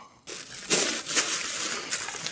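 Close, crackling rustles and sharp bursts come as adhesive tape is pulled and pressed to fix a crinkly thermal blanket around an injured service dog during emergency first aid.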